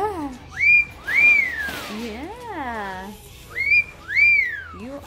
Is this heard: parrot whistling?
yes